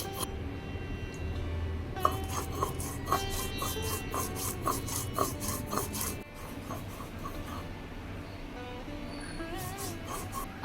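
Poppy seeds and black cumin are ground into a fine paste, a continuous gritty rubbing and rasping with a quick rhythmic scrape near the middle, close and moderately loud.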